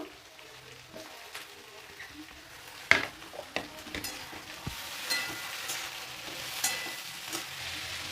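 Potatoes, beans and carrots being stir-fried in a pan, with a soft, steady sizzle and occasional sharp clinks of a utensil against the pan, one louder knock standing out.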